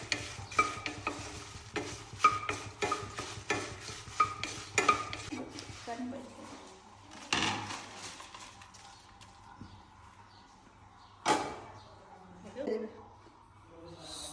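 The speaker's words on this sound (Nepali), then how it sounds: "सोप भुट्दैछु।" Fennel seeds dry-roasting in a hot wok, with rapid rhythmic stirring and scraping clicks at first, then quieter sizzle and occasional metal knocks; a voice speaks over parts of it.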